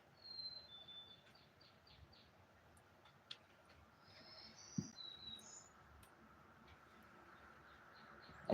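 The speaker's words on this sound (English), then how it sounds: "I'm just making sure all the birds are still going around me" Outdoors, faint birds give short, high chirps and calls scattered across a quiet background, with a couple of soft ticks and no voices.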